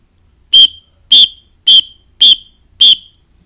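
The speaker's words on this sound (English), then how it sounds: "We're going to simulate it with a whistle blow." Five sharp, shrill whistle blasts sound at an even pace in a building evacuation drill, each short and loud with brief silences between.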